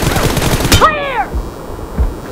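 Gunfire in the mobile battle-royale game BGMI: a sharp, loud shot crack, then a ringing descending whine, followed by a softer second shot about a second later, over a steady game hum.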